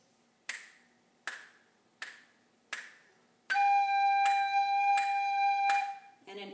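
A tin whistle holds one long, steady note, preceded by four sharp snapped count-in beats at an even pace; the tone is clear and close.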